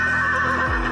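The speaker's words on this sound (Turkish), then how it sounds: "At bile kişnedi." A horse in Kyrgyzstan, at a kökbörü horseback game, gives a short close neigh, a loud brief whinny that drops in pitch at the end, heard alone.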